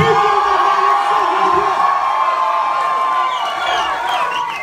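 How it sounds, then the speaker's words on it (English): Fans cheer, whoop and yell for Shahrukh Khan at a cinema fan event in Oman, a loud dense crowd roar with shrill screams throughout, sustained and close. "Round of applause, guys. Keep going."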